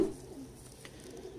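A breeder pigeon from the Mian Nazeer bloodline gives a single soft, low coo at the very start, then the air falls to a faint, quiet background.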